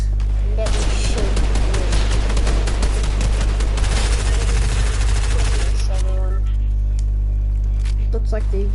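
Video game gunfire crackles in rapid, loud bursts of automatic shots that run for several seconds, then stop abruptly and leave quieter game sound.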